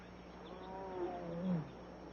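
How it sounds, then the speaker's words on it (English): A tiger growling in a 1954 adventure film, a low, rough snarl that swells twice and sits under a faint, muffled soundtrack hiss with no voices. "you must get rid of this tiger"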